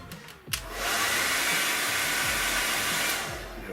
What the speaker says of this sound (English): I'm just going to hit that very quickly with a hairdryer